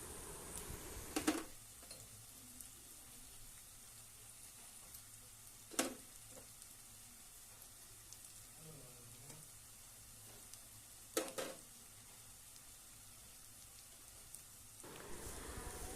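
Spices frying for a chicken gizzard curry give a faint, steady sizzle like light rain in a pan, broken by three or four sharp stirring knocks or clatters, quiet and close with no talking.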